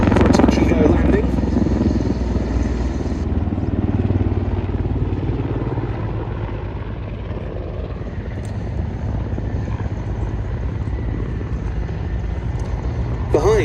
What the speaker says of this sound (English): in comes the Hip for a touch-and-go landing